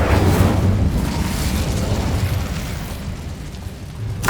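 A fire spell, Incendio, cast in the video game Hogwarts Legacy: a loud, steady roaring whoosh of flame that fills the whole moment, then fades slightly toward the end.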